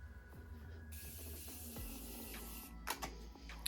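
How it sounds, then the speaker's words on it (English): A soft, sustained hiss of a spray mist runs for under two seconds, followed by a few small clicks and taps. "give it a little spray"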